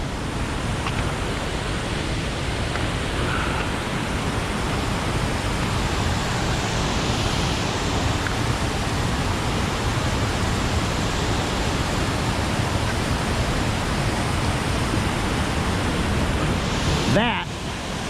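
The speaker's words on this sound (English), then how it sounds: "Imagine all that coming over the falls." The main waterfall of the Sturgeon River Gorge rushes in a dense, steady roar, loud and constant, with wind buffeting the microphone and no pause in the flow.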